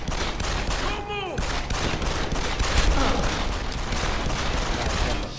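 Gunfire in the Deus Ex: Human Revolution video game, a steady dense barrage of shots filling the whole stretch at moderate level, with a voice breaking in briefly near the start.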